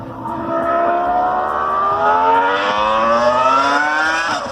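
A V10 Formula 1 car engine screaming at high revs, its pitch climbing steadily as it accelerates, loud and continuous with no voices.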